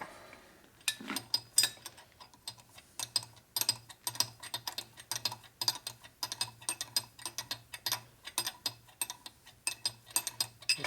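A ratchet wrench clicks steadily on bolts of a 1965 Harley-Davidson 74ci FLH panhead motor during a rebuild, a rapid run of close, crisp pawl clicks with short strokes and no talking.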